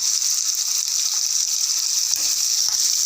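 Garlic sizzling in hot oil in a pan for a Kannada-style avarebele saaru, a steady bright hiss with faint crackles throughout, close and continuous, with no talking.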